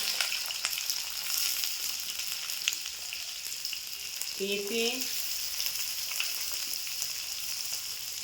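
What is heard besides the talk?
frying potatoes and carrots in a pan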